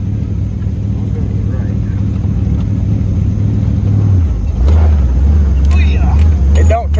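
A Chevy 283-powered rat rod rumbles steadily from inside the cabin, its deep engine drone dropping in pitch about halfway through, with people talking over it at times.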